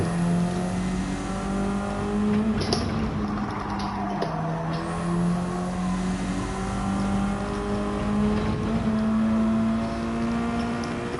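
A racing car engine in a racing video game drones loud and continuous, pitch rising and dipping as it revs through gear changes, with no talk over it.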